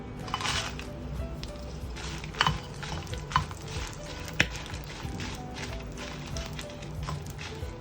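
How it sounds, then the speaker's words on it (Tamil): Dried red chillies fry in sesame oil in a pan with a soft, steady sizzle, broken up by scattered clinks and scrapes as they are stirred. "மிளகா வத்தல் வறுத்துடலாமா? ஆமாம், முதல்ல மிளகா வத்தல்."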